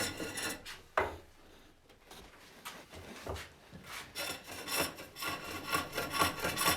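A steel hook tool shaving a wooden bowl on a spring pole lathe, making repeated scraping, rasping finish cuts in uneven bursts that grow denser and louder toward the end, close up.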